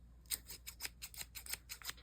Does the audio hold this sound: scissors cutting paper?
yes